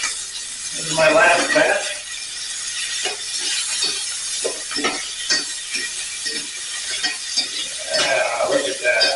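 Beef browning for Flemish carbonnade, stirred in a pot with a sizzle and scraping utensil strokes at close range, while a person talks over it.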